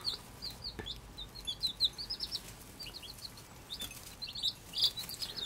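New baby chicks one week old chirp in a rapid, scattered cluster of high, thin peeps, fairly close and lively over a low background hiss.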